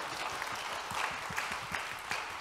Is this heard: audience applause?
yes